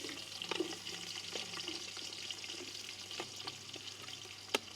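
Whole cinnamon, cloves and fennel seed with onion sizzle in hot oil, a steady close fizzing and crackle with occasional sharper pops and a faint clink near the end.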